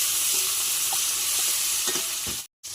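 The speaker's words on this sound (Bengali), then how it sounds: "তেলের ওপরে টমেটোটা একটু নাড়িয়ে নেব" Tomato stirred and fried in hot oil, a loud, close, continuous sizzle broken by a few scraping strokes of a spoon in the pan, then a brief cut to silence near the end, with no voices.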